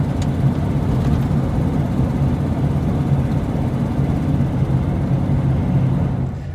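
A truck engine drones steadily from inside the cab, a low rumbling road noise that continues without a break.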